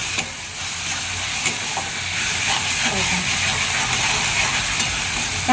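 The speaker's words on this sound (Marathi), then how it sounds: "कांद्यामध्ये जर मीठ टाकलं तर कांदा लवकर तळतो" Onions frying in a pan with salt added, a continuous close sizzle and hiss with occasional scraping stirs, steady and fairly loud without talk.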